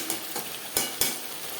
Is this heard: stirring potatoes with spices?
yes